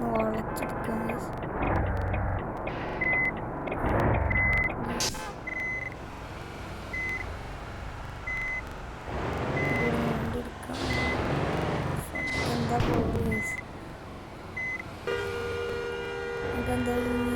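A vehicle turning and reversing on a road, steady reversing beeps repeating at an even pace over a continuous engine rumble, with a louder rush of passing traffic and a different tonal alarm near the end.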